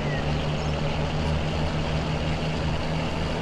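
A helicopter in the video game Transport Fever 2 flies with a steady, droning engine and rotor hum, constant and fairly loud throughout, with no voices over it.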